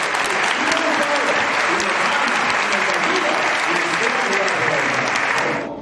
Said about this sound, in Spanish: Porque el aplauso para ese Dios poderoso.